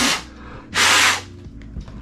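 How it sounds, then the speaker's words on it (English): Two hissing bursts of contact cleaner sprayed into the touchy power switch of an old Sony camcorder, a short puff then a longer, louder half-second blast, close up, over faint background hum. "So I'll just spray some contact cleaner in there"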